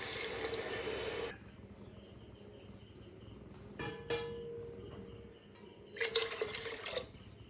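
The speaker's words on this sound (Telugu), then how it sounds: "ఒక గ్లాస్కి 2 గ్లాసుల చొప్పున వాటర్ వేసుకుందాం." Water pours into a pot of tomato rice in two loud gushing bursts, one at the start and one near the end, with quieter trickling and dripping between.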